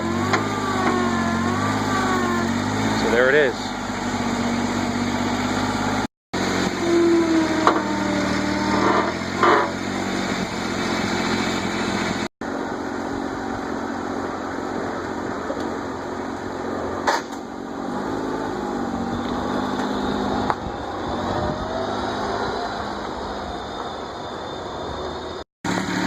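A tow truck's engine runs steadily at a moderate, even level, with a couple of brief cut-outs and a short spoken remark near the start.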